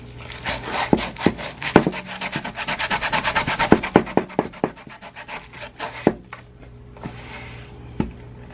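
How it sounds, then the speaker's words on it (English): Small piece of sandpaper rubbed by hand over a surface to distress it, making close, steady scratchy back-and-forth strokes with sharper knocks between passes, easing off near the end. "Now I'll get this little sandpaper."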